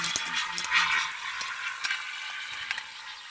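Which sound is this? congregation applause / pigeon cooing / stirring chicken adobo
stirring chicken adobo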